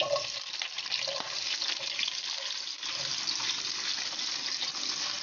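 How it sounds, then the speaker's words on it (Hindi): Capsicum frying in hot oil for a chicken jalfrezi biryani, a dense, even sizzle with faint stirring, close and steady for a few seconds. "दो मिनट मैं इसको फ्राई करूँगी"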